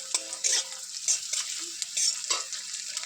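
Onions drop into hot oil and are stirred, giving a bright sizzle broken by repeated scraping strokes of a utensil against the pan. The sound is close and fairly loud, with no speech.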